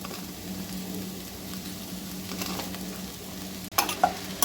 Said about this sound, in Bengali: এবারে আমি চিড়েগুলো সব দিয়ে দেব।